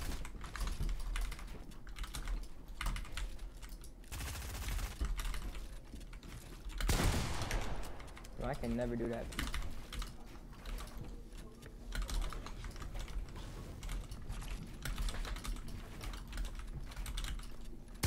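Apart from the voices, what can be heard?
typing on a computer keyboard while gaming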